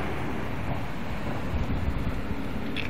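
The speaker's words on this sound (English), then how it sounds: "It's a little bit windy." Steady low rumbling wind buffets the microphone throughout in a parking lot, a dense close roar with no voices.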